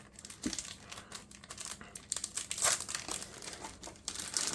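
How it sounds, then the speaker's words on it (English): Cellophane pouches from a boxed wargame being handled up close, crinkling and rustling continuously with brighter bursts as they are squeezed and shifted. "These cellophane pouches"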